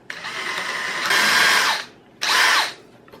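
Drilling a 1/8-inch hole in wood with a power drill for a wood and chicken wire box shelf: two close, loud whining bursts, the first longer with a pitch rise midway, a brief pause, then a shorter second burst.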